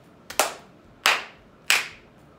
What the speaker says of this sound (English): We're going to clap 3 times.